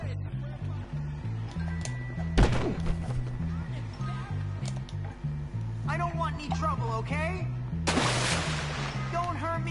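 Firecrackers going off in the video game Bully, two sharp cracking bursts heard over looping game music, the second longer and more crackling, with people talking over the soundtrack.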